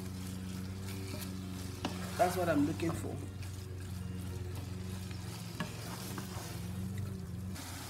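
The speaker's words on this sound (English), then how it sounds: "So I'm gonna really fry it." Continuous crackling sizzle of Nigerian fish rolls deep frying in oil until golden, with a person briefly speaking over it and a low hum underneath.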